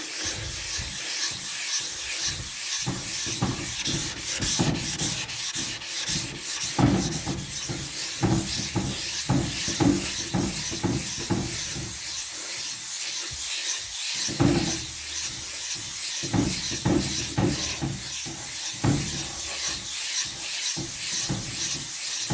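Continuous scratchy rubbing of sandpaper over body filler putty on a VW Beetle panel, close and steady in back-and-forth strokes with brief pauses, no talk.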